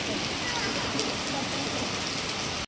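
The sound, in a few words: rain falling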